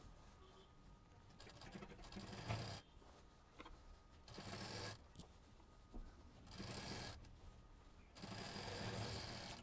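A sewing machine stitches the seams of a fabric shoulder bag, running in several bursts of steady whirring with short pauses between them. It is faint and close by.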